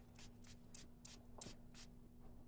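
Half a dozen quick, evenly spaced spritzes from a spray bottle misting water onto a stamped paper card at a craft table, faint and close, with no talking.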